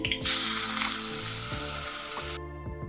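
Steady loud sizzling of chopped onions with ginger, garlic and chilli frying in a hot pan, a continuous crackling hiss that cuts off abruptly near the end.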